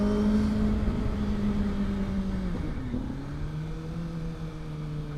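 A car engine pulls steadily under acceleration, with a sustained drone whose pitch dips and settles partway through. It stays loud and close throughout, with no talk.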